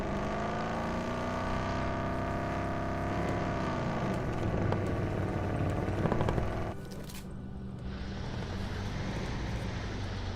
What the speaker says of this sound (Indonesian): Itu helikopter deket